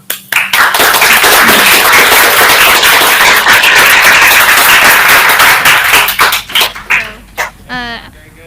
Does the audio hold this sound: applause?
yes